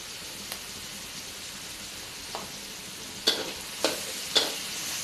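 Stink beans stir-fried in a hot pan give a quiet, steady sizzle, broken by a few sharp scrapes and clacks of the spatula toward the end.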